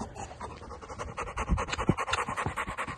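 A strong dog pants rapidly and rhythmically close to the microphone, quick breathy huffs growing slightly louder midway, with no talking.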